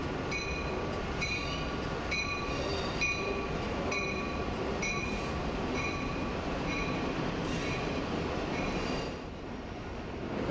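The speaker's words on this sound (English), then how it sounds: "Metra Electric comes in to Randolph Street, which is the terminal, right at the Chicago River" A Metra Electric train rumbles steadily through the underground Randolph Street terminal in Chicago, with a constant loud roar, repeated metallic clicks and squeals, and a brief drop in level near the end.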